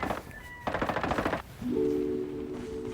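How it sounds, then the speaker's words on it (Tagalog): Rapid bursts of automatic gunfire from bots fighting each other in a shooting video game, crackling in quick strings before giving way to a steady tonal hum of game sound. "Yun, nagbabarilan dun oh."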